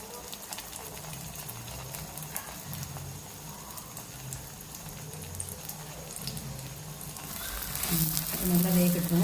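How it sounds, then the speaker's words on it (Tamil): Aloo paratha sizzles in light oil on a dosa griddle, a soft continuous crackle and hiss at low level that swells louder near the end. "இது தோசை கல்லில் சுட்டு எடுத்துக்கலாம்."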